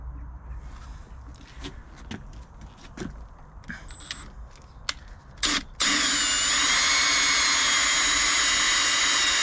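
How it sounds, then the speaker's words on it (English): A power drill whirs loudly and steadily, drilling out bolt heads during a Fordson Major tractor brake repair, after several seconds of scattered knocks and handling noises, running continuously to the end. "we'll have to drill the bolt heads as well"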